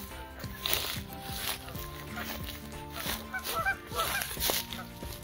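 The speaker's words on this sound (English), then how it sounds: "The ducks and the geese use these places for their nests." Geese and ducks honking beside a creek outdoors, repeated nasal honks in quick irregular bursts, fairly faint and close with some rustling between calls.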